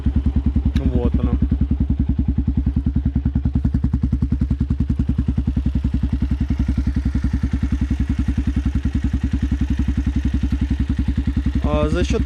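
A Forte FT200GY motorcycle fitted with a non-standard exhaust idles loudly and steadily up close, its deep, even putter running throughout, with a brief voice near the start and again at the end.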